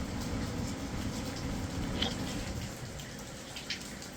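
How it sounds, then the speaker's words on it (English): Constant rain pours down outdoors on a wet day near a small patio, a dense, even hiss with a few louder drips. "Getting a lot of rain today,"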